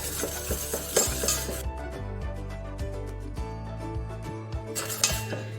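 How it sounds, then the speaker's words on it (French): Yeast being stirred into egg yolks in a bowl: soft scraping and light clinks of a utensil against the bowl, close and steady, under background music. "Nous allons rajouter la levure au jaune. On mélange."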